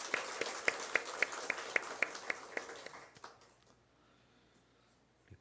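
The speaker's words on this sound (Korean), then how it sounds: "우리 하나님께 영광의 박수 올려드리겠습니다." A church congregation gives a round of applause after a student choir's hymn, a few seconds of steady, fairly quiet rhythmic clapping that tapers off into near silence.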